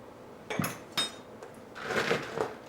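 Christmas stuffing dressing is stirred in a pot: a spoon clinks and scrapes against the metal a few times, then gives a longer scraping, churning sound near and alone.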